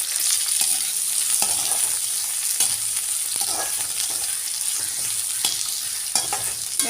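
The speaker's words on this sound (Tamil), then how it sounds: "சோம்பு சிறந்த பிறகு இந்த ஒரு வெங்காயமும் கருவேப்பிலையும் போட்டு" Sliced onion and curry leaves sauté with fennel seeds in hot oil in a pan, giving a steady, loud sizzle throughout, broken by the regular scrape and clack of a stirring spoon.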